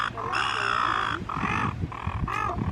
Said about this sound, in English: The seagulls are fighting.